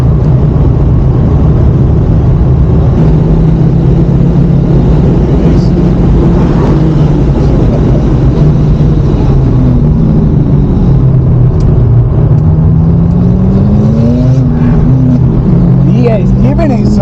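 An Audi RS2 Avant on a race track drones loudly under heavy throttle, its engine note rising and falling through gear changes as voices talk over the constant roar.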